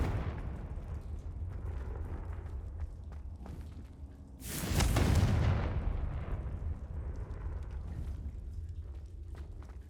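Confringo fire spell blasting in Hogwarts Legacy, a single loud explosive burst that flares up suddenly and decays over about a second, set against a steady low rumbling game ambience.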